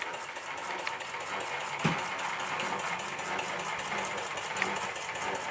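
A model Minnie-type steam traction engine runs slowly on a bench, giving a steady, fast rhythmic chuffing and mechanical ticking, close and even throughout, with a brief knock near the start.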